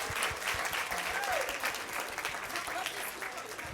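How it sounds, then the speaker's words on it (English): Steady audience applause at a literacy symposium, continuous clapping from a crowd lasting the whole few seconds. "So let's give her a round of applause."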